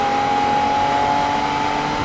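Porsche sports car engine running steadily with a constant tonal drone and dense broadband roar, sustained and loud throughout with no talking.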